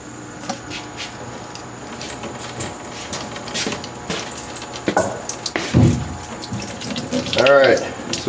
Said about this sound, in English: I'm still going to turn the pump on just for a couple seconds and throw some water